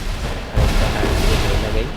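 Gunfire in the Free Fire video game booms out in heavy, dense bursts mixed with game sound, with a voice talking over it.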